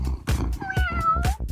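A cat meows a few times in quick succession close by, the calls rising and falling in pitch over a low background, set in a home with a homemade cardboard scratching post and brush.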